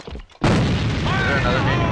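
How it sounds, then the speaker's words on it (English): A grenade explodes in a video game, a single loud, close boom that hits suddenly and rumbles on, with a voice calling out under the blast. "Fire in the hole! That's what that nade's for."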